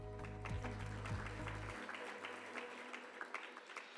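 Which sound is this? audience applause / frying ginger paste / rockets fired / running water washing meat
audience applause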